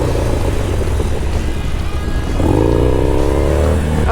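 Harley-Davidson Sportster engine under throttle during a circle wheelie, a loud continuous motorcycle drone that climbs into a sharper revving surge partway through, close and unbroken.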